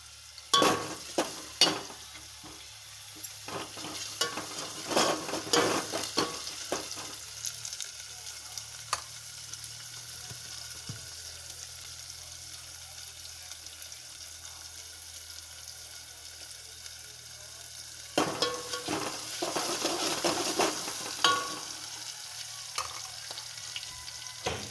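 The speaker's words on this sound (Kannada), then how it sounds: "ಈರುಳ್ಳಿ ಹಾಕಿ ಕರಿಬೇವು ಹಾಕ್ತೀನಿ. ಇವಾಗ ಚೆನ್ನಾಗಿ ಫ್ರೈ ಮಾಡ್ಕೋಬೇಕು." Onions and curry leaves fry in a pan with a continuous sizzle, broken by bursts of clattering, scraping stirring at the start and again later, and a quieter, steady hiss in between.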